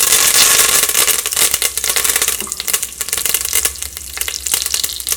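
Curry leaves and dried chili hit hot coconut oil with a steady, crackling sizzle, dense sputters and pops spread across the whole stretch, close and fairly loud.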